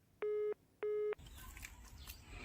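A phone call rings unanswered, with two long electronic ringback tones of even length and a short pause between them, clear and steady, then quiet background noise.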